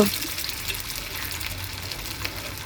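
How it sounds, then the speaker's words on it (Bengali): Potato pakoras frying in hot oil over a medium flame, giving a steady, close crackling sizzle that runs without a break and holds an even level throughout. "তেলগুলো গরম হয়ে এসেছে। এখন আমি একটা একটা করে পিঠাগুলো দিয়ে দিব।"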